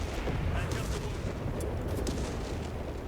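Machine gun and mortar fire in the Company of Heroes 3 strategy game: a dense, continuous rumble of distant artillery booms and gunfire bursts, loud and steady throughout without a clear break.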